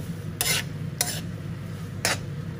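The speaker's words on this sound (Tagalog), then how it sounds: "Haluin lang natin itong mabuti hanggang sa mag-change color na yung ating beef." A spoon stirs beef in a pot in three quick scraping strokes spaced about half a second apart, over a low, steady background hum.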